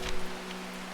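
Steady rain falls in the video game Strange Horticulture, an even hiss with soft patter of drops throughout, no voices.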